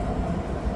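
Steady low rumble of a REM light-rail train on a calm morning run between Central and Brossard stations in Montreal, heard from inside the car as a continuous, even drone with no voices.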